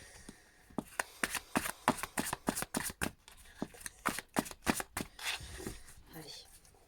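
Tarot cards riffled and cut by hand during a karmic reading, giving a rapid run of crisp flicking snaps close up, easing off toward the end.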